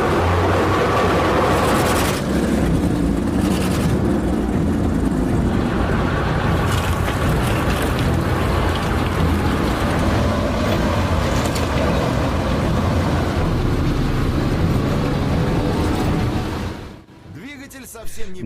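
A WW2 Panzer IV tank engine runs as a loud, steady low rumble with broadband mechanical roar for about seventeen seconds, then cuts down sharply near the end; a voice speaks briefly over it.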